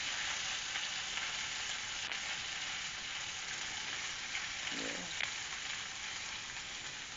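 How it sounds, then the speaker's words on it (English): Scallions sauté in a pan with a steady, close, broadband sizzle and a brief stirring scrape near the end, with no talk. "now what we do is put in the scallions, and we want to saute these beagles for just a little bit"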